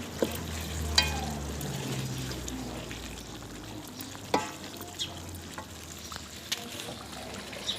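Desi chicken karahi frying in a pan, a steady close sizzle with occasional scraping stirs and clinks of a utensil, no talk.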